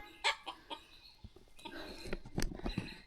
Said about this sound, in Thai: อันนี้จะเป็นไก่ป่านะเนี่ย